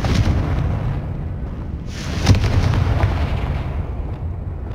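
Hogwarts Legacy combat with a fiery Confringo spell: a booming blast with a sharp crack lands near the middle over a steady roaring rumble, loud and close, followed by a few smaller pops and no talking.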